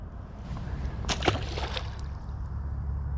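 A small bass is let go back into a pond, making one brief splash and slosh of water up close against a quiet outdoor backdrop.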